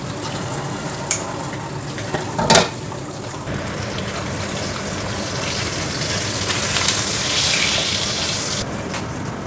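Salted fish sizzles and crackles in a hot pan, with a couple of sharp clatters early on and the frying growing louder and more intense toward the end.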